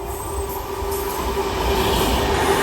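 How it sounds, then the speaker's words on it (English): A Pendolino train runs through a station with a steady, loud rumble of wheels on rail and a faint high squeal, sustained and building slightly over a few seconds, with no voices. "We have a Pendolino coming through now."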